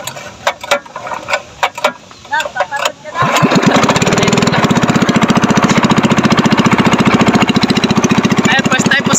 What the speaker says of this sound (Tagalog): Medyo pumalya pa yung makina namin